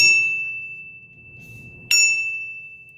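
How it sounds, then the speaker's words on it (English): A Zildjian bell in the style of a Chinese wedding bell, played in a drum kit, is struck twice, each hit a bright piercing ring that decays slowly, with the second strike near the two-second mark. "this is my version of the Chinese wedding bell. It sounds pretty identical to Carter's. Give you a sample of it."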